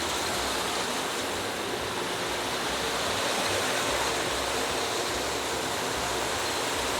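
Steady, dense rush of water spraying and splashing as cans ride down a brewery canning line for rinsing and sanitizing, loud and continuous with no talk.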